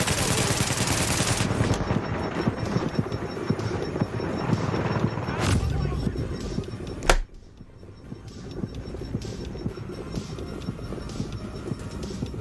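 Rapid bursts of automatic gunfire in a shooter video game, dense and loud at first, then a sharp explosive crack before quieter scattered shots continue.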